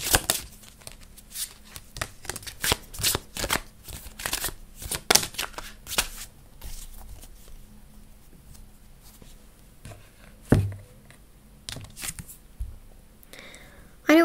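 Paper message cards being shuffled and handled give off bursts of close, dry riffling and flicking, clustered in the first several seconds and then sparser, with occasional rustles and a louder crinkle near the end.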